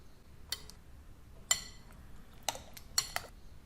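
Knife slicing eggplant finely on a cutting board, sharp, distinct clicks against the board landing one at a time at an uneven, unhurried pace, close and fairly quiet in a calm kitchen.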